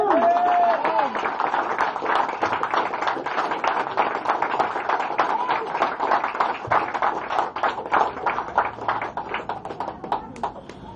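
Sustained rhythmic hand clapping from a large church congregation, steady and dense, carrying on for the whole stretch with a faint chant beneath it.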